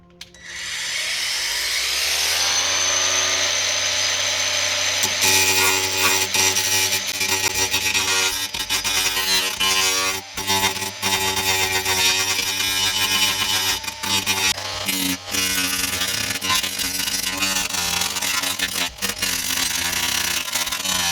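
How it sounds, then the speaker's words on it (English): An angle grinder smooths a fiberglass patch over rust on the boot of a Mitsubishi Galant, a loud close whine spinning up and then holding steady, with the pitch wavering as it bites into the surface. "That's going to need an angle grinder to smooth it out."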